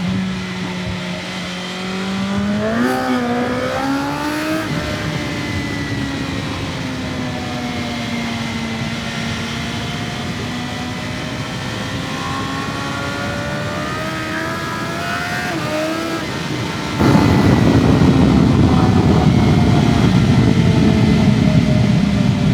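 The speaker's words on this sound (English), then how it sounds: "I hope the engine and exhaust sound will kill it." A BMW S1000XR motorcycle engine drones steadily with harmonics that rise and fall as it revs, then a louder, rougher burst of exhaust noise near the end.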